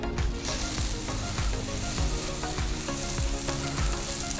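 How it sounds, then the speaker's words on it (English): A thick steak sizzles loudly on a hot Blackstone griddle with butter, a steady dense crackle and hiss with faint popping, close up and without voices. "And then we lay our steak down and just listen to that sizzle."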